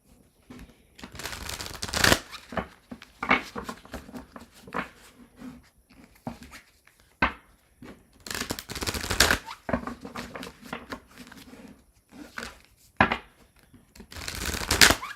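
Tarot cards being shuffled by hand, giving bursts of crisp riffling and flicking in several rounds separated by quieter handling noises, close up and without speech.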